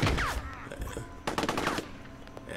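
Mortar and gunfire from the Korean War video game Theatre of War 3: Korea, heard as a few sharp distant blasts and cracks over a rumbling battlefield background.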